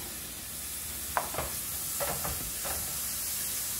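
Steady hissing sizzle of bacon frying in a hot pot, with a few soft clinks and stirring scrapes scattered through the crackle.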